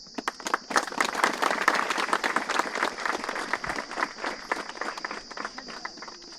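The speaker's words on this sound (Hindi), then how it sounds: "ताली बजा देंगे।" Applause from a congregation gathered for the ribbon cutting at the inauguration of a newly built church, a steady wash of many hands clapping that holds evenly throughout, moderately near, with no talk over it.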